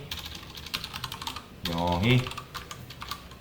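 Fast clicking taps on a computer keyboard while Python code is written, quick key strikes close by, briefly broken by a short hum in the middle.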